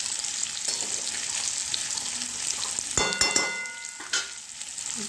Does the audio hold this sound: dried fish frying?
yes